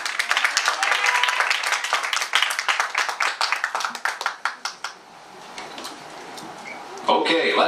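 Audience clapping for a junior dance team at a street dance event, rapid scattered hand claps that thin out and fade, followed by a brief voice at the end.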